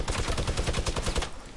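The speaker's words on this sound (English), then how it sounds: "Shooting at the house." Rapid automatic gunfire crackles in the video game Fortnite, a fast steady burst of shots aimed at a house, sustained and fairly loud with no talking over it.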